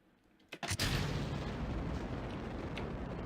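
A rocket explodes in the Kerbal Space Program video game: a sudden loud blast with a couple of sharp cracks, then a sustained roaring, crackling rumble that lasts to the end.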